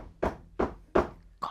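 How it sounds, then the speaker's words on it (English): Three loud, heavy bangs on a door in a steady rhythm, then a fourth, sharper knock after a short pause, close and alone with no talking. "loud banging at the door"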